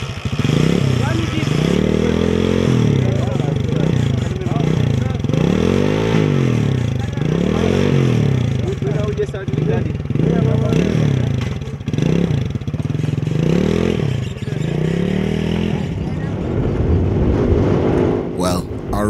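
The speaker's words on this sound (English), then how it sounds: "Motorbikes are the fastest means of transport around here, so we hire motorbikes" Hired motorbikes riding a rural dirt road in Africa, engines droning and revving continuously up close with rattling clatter and shifting pitch, a voice speaking over the ride at times.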